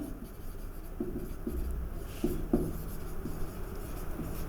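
Writing on a board during a 12th-grade mathematics lesson: soft scratchy strokes come in short bursts with a couple of firmer taps, close by and fairly quiet, with no voice over them.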